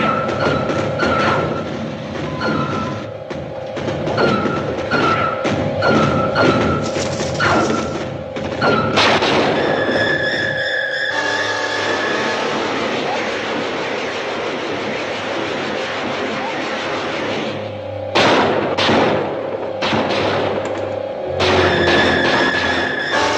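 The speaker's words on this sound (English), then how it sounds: "The artillery doesn't penetrate." Artillery fire in a 1956 flying saucer film comes as a dense, loud barrage of heavy booms and thuds mixed with sustained mechanical roaring and whining tones, with a few sudden louder bursts.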